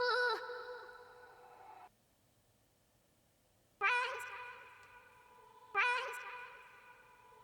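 An untreated Splice vocal chop plays in a beat. One sustained sung note stops abruptly, a long near-silent gap follows, and then two short pitched vocal stabs come in with bright, echoing tails.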